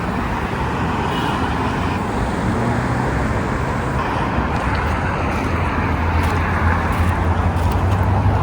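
Steady Las Vegas street traffic roars past at close range, with a dense, continuous wash of car and bus engines and tire noise and no clear voices.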